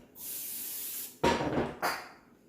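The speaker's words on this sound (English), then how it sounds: "Spray your pan." A steady hiss of cooking spray on a pan lasts about a second, then two short sizzling bursts follow, close and fairly loud.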